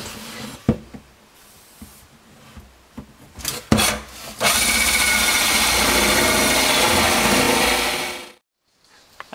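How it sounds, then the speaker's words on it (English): A power drill bores holes through a wooden kitchen cabinet for dishwasher water lines, with a few handling knocks before a loud, steady grinding run that stops abruptly. "I've finished drilling the holes for the water lines."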